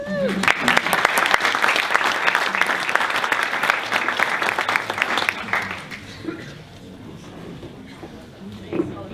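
An audience at an edtech event claps enthusiastically, with dense, loud applause filling the first six seconds before it thins and fades out, leaving a quieter room with murmuring voices.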